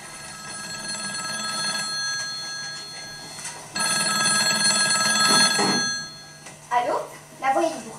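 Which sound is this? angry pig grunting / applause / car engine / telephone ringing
telephone ringing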